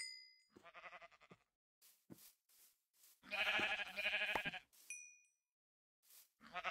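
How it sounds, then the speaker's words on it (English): Sheep in the video game Minecraft give several short, close bleats in separate bursts with quiet gaps between them, along with a faint game chime. "It's a sheep."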